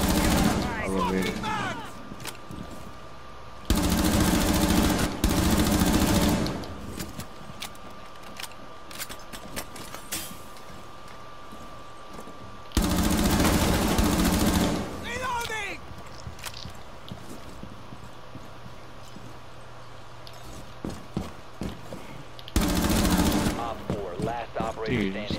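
Shotgun blasts in a first-person video game, heavy repeated bursts of fire in several loud clusters separated by quieter stretches of footsteps and game noise, with a player talking throughout.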